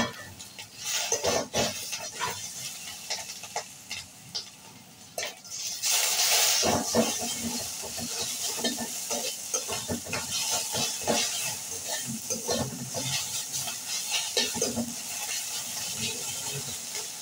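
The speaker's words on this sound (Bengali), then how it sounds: "দিয়ে ভালোভাবে ভেজে নেব।" Onion frying in a pan with garlic paste and ginger paste stirred in, a steady sizzle and hiss with scraping of a utensil against the pot and occasional metallic clinks, fairly close and without talk.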